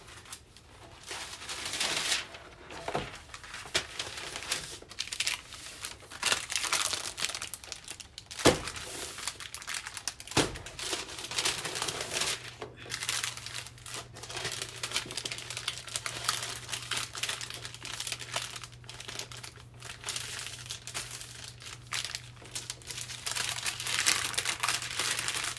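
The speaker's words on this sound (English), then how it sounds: "I'm just going to wrap this up and wrap this on some wax paper" Dough being wrapped in wax paper for a batch of old-fashioned Southern tea cakes, a steady close crinkling and rustling of paper that runs the whole time with a few sharper crackles, and no one talking.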